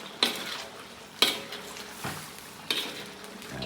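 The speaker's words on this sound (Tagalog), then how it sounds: "Then hahaluin na natin ito." Chicken in a pot stirred after sugar is added: four distinct clanking strokes of a utensil against the pot at uneven intervals over a soft background hiss.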